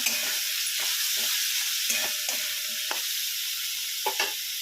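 Potato sautéing in a pan gives a steady, soft sizzle, broken by several scraping stirs of a spoon at irregular intervals.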